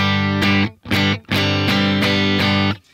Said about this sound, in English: this is what my just dry, nothing but the amp sounds like right here.